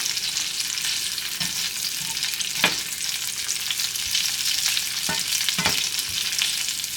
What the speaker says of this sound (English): I went ahead and put just onions and store-bought French fries in here just to quicken things up.